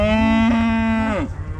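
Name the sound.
cow mooing, bred heifers on a farm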